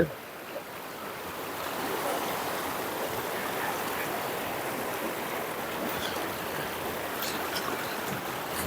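A river flows through forest in a steady, close rushing stream that holds at an even level from start to finish, with no talking.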